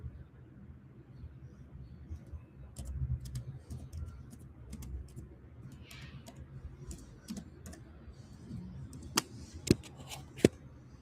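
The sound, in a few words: computer keyboard typing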